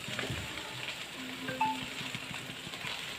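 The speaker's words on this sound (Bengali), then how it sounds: "এবার আমি দিয়ে দেব আমার পেস্ট করে রাখা মশলাটা। এখানে আদা, জিরে, ধনে আর পাকা লঙ্কা।" A spice paste of ginger, cumin, coriander and chili fries quietly in a pan, giving a soft, steady sizzle with a few faint stirring clinks.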